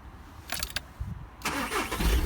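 A VW Tiguan's engine is started after the clutch is pressed, cranking briefly then catching and settling into a close, steady idle amid clicks and shuffling.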